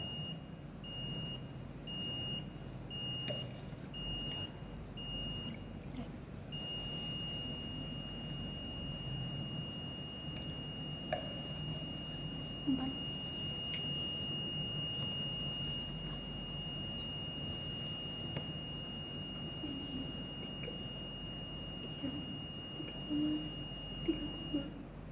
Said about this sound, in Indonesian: dan buzzernya menyala